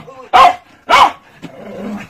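Two loud, close barks from a dog on arrival at a home in Busan, followed by quieter shuffling and movement noise.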